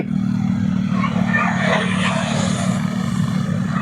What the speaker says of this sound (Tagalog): Medyo maingay yung mga ATV.